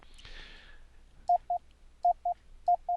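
Short Morse code tones sent in an iCW internet loopback test, six clean evenly pitched beeps in pairs, clear against a faint hiss after a brief rustle at the start.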